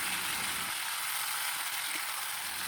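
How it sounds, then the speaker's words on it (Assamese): Ginger-garlic paste fries in a pan with a steady, dense hiss that stays even and close throughout, with no voices. "আদা নহৰু দিয়াৰ পিছত অলপ ভালকৈ ভাজি ল'ম।"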